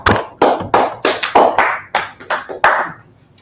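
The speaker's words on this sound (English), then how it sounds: "Clap it up for the class. Clap for the class." A small group claps for a class in a Harlem meeting space, about ten loud, close, irregular bursts of hand claps over a few seconds before fading out, with no talk.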